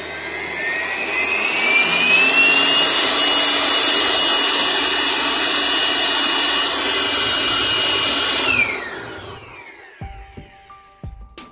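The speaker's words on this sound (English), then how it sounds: "Let's see how much juice we can extract from this blower." A Jakmister 700W electric air blower whines at a steady, loud, high-pitched roar for several seconds, then spins down with a falling tone, followed by a few faint clicks and knocks.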